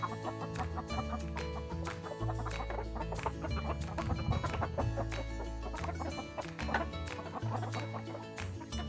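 A flock of chickens clucks and squawks close by in a continuous busy chorus of overlapping calls, with sharp clicking pecks throughout.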